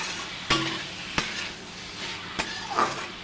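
Vegetables with turmeric and cumin powder are stirred in a pan for a mung dal dish, with three sharp scrapes of a spoon against the metal over a soft, low sizzle, and no voices.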